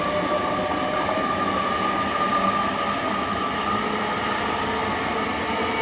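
Class 800 units 800 024 and 800 034 rush through Swindon station toward Chippenham, a loud continuous rumble and roar of rolling wheels and traction with a steady whine, close and sustained throughout.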